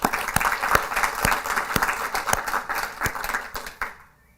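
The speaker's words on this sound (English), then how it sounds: "I think we just give you a bit of a round of applause" A round of applause for a speaker at an online scaling-up event, many hands clapping loudly and close with distinct sharp claps, holding steady before fading out to silence near the end.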